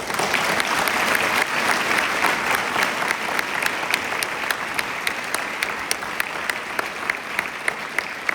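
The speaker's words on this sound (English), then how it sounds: "If we could give them a round of applause." Loud, sustained applause from an audience at a concert with a high school chamber orchestra and a war dancer, dense clapping with sharp individual claps popping out steadily throughout.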